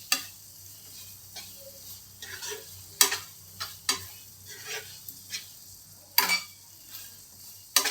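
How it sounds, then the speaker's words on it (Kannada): Carrot halwa being stirred after cardamom powder goes in, a quiet sizzle under repeated sharp spoon scrapes and clicks against the pan at an uneven pace. "ಸ್ವಲ್ಪ ಏಲಕ್ಕಿ ಪುಡಿ ಹಾಕಿ ಚೆನ್ನಾಗಿ ಮಿಕ್ಸ್ ಮಾಡೋಣ"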